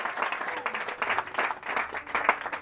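A church congregation applauds to acclaim the word of God during a sermon, a steady wash of clapping from many hands rising and falling for a few seconds with faint voices mixed in.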